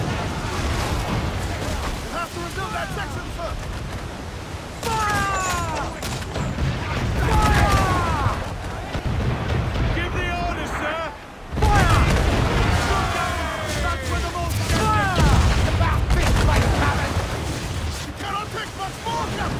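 Naval cannon fire in Assassin's Creed IV Black Flag during a ship battle near the forts of Punta Guarcio, repeated booming volleys over surging waves and wind, with shouted crew voices in between.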